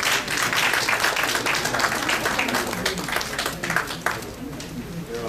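Audience applause at a Nepali ceremony, a sustained wash of many hands clapping continuously, fairly loud and steady throughout with a dense crowd texture.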